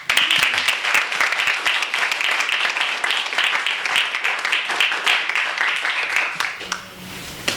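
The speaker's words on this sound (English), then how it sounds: "Let's give a warm round of applause" Audience at a book talk giving a warm round of applause, many distinct hand claps in a brisk, even patter that fades out near the end.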